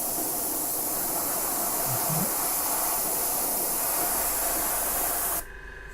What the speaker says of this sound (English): There's the compressor coming on.